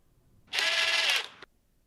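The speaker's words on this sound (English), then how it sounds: "relying on my trusty driver to tighten it up sufficiently" A power driver whirs in one short, loud burst of about a second as it tightens a nut on an exhaust valve stem while an M35A2 long-style air pack is assembled, then stops sharply.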